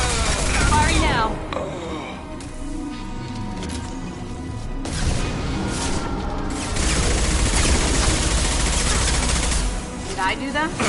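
Weapons fire in the video game Mass Effect 2, with rapid bursts of gunfire, booms and crashing impacts throughout, layered under voices talking.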